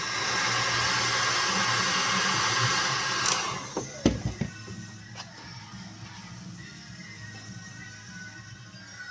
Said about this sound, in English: Now we're going to heat up our little heat tool